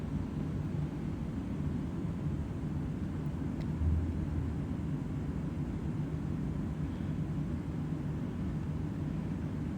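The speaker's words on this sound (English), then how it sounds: "The plane reverses and now it's forwarding." Cabin rumble of a Boeing 777-300 airliner taxiing at Perth Airport, a steady low droning engine hum with airflow noise, constant and moderately loud throughout.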